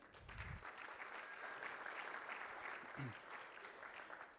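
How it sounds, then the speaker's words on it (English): Audience applause at a cloud technology conference session: a soft, even wash of clapping from a crowd, heard at a distance and continuing steadily for several seconds. "Round of applause."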